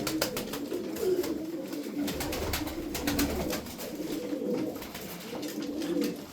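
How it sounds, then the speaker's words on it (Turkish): Tumbler pigeons coo in repeated low throaty phrases close by, with a bird's sharp clicks and faint calls around them and no talk. "Kuşlarımız güzel."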